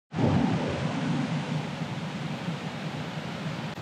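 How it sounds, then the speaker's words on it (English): Water rushes steadily in a stream or waterfall, a loud, continuous broadband roar that holds unbroken throughout with no voices. "there's a lot of water flowing"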